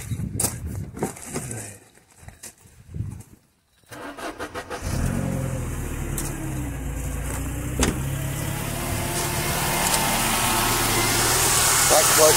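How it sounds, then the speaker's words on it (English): Mercedes SLK 230 Kompressor with a supercharger clutch fault that leaves the compressor always engaged: the starter cranks briefly, then the engine catches and settles into a loud, steady idle with a constant whine, close by. "We'll start the car and see what happens."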